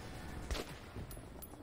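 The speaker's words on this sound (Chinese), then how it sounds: "我可以尽情的开枪" Gunfire in the video game Metro 2033, a few faint, muffled shots with one sharper burst near the start, heard against a dull background.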